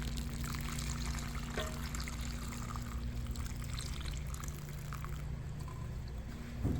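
Hot salt water poured over perilla leaves for pickling, a steady, soft, continuous pouring stream heard close up over a low background hum, with no talking.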